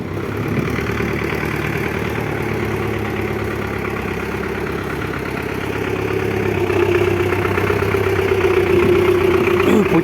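A steady engine idles and chugs continuously, low and rumbling throughout, growing slightly louder toward the end with no talking.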